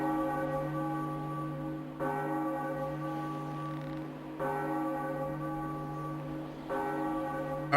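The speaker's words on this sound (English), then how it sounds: "Ring the bell." A bell in a Zelda video game tolls steadily, each ringing stroke sustaining and overlapping into the next, with three or four strikes at roughly even intervals and no talking.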